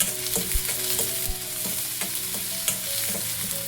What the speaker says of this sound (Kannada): ಈರುಳ್ಳಿ ಸ್ವಲ್ಪ ಜಜ್ಜಿರೋ ಬೆಳ್ಳುಳ್ಳಿ ಮತ್ತು ಹಸಿಮೆಣಸಿನ್ಕಾಯಿ ಇಷ್ಟನ್ನು ಹಾಕಿ ಚೆನ್ನಾಗಿ ಸ್ವಲ್ಪ ಫ್ರೈ ಮಾಡ್ಕೊಳ್ಳೋಣ